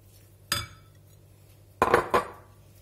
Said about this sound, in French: je viens mélanger le thon à mon appareil